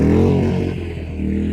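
A Novus 2300 watt portable inverter generator running just after a choke start gives a loud, steady engine drone with a low hum, heard up close and alone.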